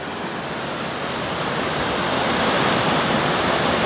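Mercy Branch, a mountain creek flowing down off Paris Mountain, rushes in a dense, steady roar of water, loud and close, with no voices.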